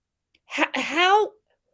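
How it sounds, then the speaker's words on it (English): A single short, close fake sneeze from a person, a deliberate two-part voiced "ah-choo" lasting under a second in otherwise quiet surroundings. "fake sneezing again"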